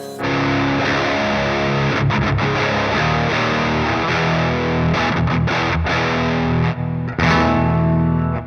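Heavily distorted metal electric guitar through the Neural DSP Gojira X plugin, playing loud, dense chugging riffs with brief palm-muted gaps, continuous and up front with no voices.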